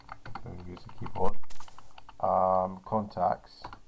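Keys clack on a computer keyboard in short bursts of typing, mixed in with a person talking nearby.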